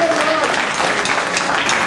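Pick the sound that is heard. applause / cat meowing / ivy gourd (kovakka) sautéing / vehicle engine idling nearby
applause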